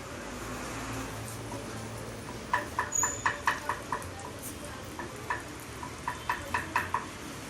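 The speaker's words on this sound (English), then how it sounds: "I am going to use the wooden spoon on the non-stick pan." Butter melts in a non-stick pan while a wooden spoon stirs it, giving a low steady sizzle broken by a quick run of soft, rhythmic scraping taps, close and gentle.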